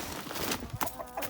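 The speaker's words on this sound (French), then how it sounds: "Donc là, on a ce coq." A golden Alsace rooster clucks in short, irregular bursts up close in a farmyard, with some background noise.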